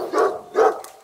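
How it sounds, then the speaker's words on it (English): A big dog gives two loud, deep barks in quick succession, close by, near the gates of a French home. "That is one big dog."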